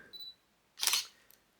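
A Canon SLR at 1/100 s, f4.5 and ISO 400 fires a single crisp shutter click-and-clack, short and close, preceded by faint beeps.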